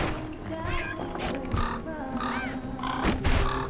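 A hostile bird creature in the action game Bastion gives repeated harsh caws over a busy, dense wash of game music and effects, with someone talking faintly beneath.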